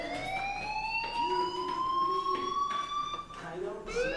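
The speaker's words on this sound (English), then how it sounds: "Hey, do you hear that fire alarm?" A fire alarm in the video game Life is Strange rings with a steady, rising electronic tone that holds across the clip at moderate level, with a few faint background sounds beneath it.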